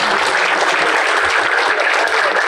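An audience at a University of Faisalabad event claps loudly and steadily in dense, continuous applause, welcoming the chief guest.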